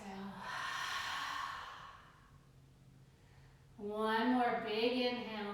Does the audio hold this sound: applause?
no